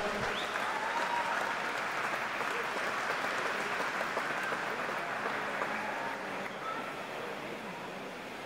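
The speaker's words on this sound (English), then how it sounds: "Give them a big round of applause, ladies and gentlemen." Sustained applause from a crowd at a national swimming championship finals session, a dense even wash of clapping that stays steady throughout and fades slightly near the end, with no speech over it.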